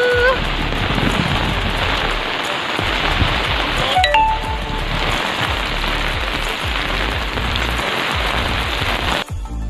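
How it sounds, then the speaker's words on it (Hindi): Steady rain falls on surfaces outdoors during a lockdown, a loud dense patter with scattered drips and occasional faint clinks throughout. "बारिश हो रही है,"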